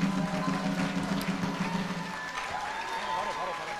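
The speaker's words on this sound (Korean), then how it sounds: "다시 한번 큰 박수 보내주십시오" Applause and crowd noise fill a packed hall at a political party's New Year gathering in Daegu, steady and continuous with a low murmur of voices mixed underneath.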